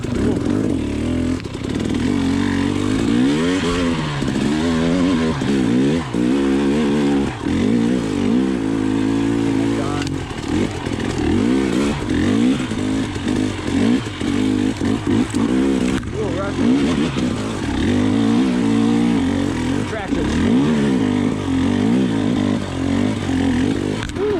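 A KTM TPI enduro motorcycle being ridden, its two-stroke engine buzzing loud and close with repeated revs rising and falling throughout, wind rumble underneath and a voice talking at times.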